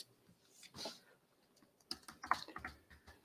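Scattered keystrokes on a computer keyboard while notes are typed, faint and close, in short irregular clusters with pauses between.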